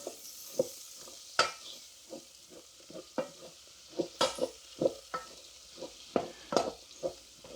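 Breakfast frying in a pan on a Trangia camping stove, a soft steady sizzle broken by repeated sharp scraping stirs, close and fairly quiet with no talk.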